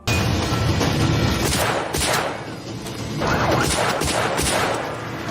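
Film gunfire as a captain runs out of rifle rounds and switches to a pistol: a dense, loud run of sharp shots and bursts packed close together, nearly continuous across the stretch.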